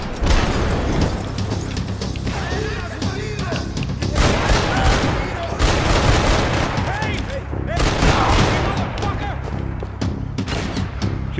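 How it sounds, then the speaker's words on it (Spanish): Dense, sustained gunfire from the video game Max Payne 3, with rapid bursts and heavy shots crowding together throughout and a few booming impacts, mixed under a man's occasional speech. "¿Quién me está disparando?"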